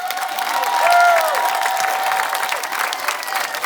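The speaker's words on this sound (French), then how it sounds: "et vous pouvez les applaudir" Outdoor crowd at a city parade applauding a firefighters' brass band, dense clapping and some cheering that rises and then holds steady, with faint brass tones sounding early on.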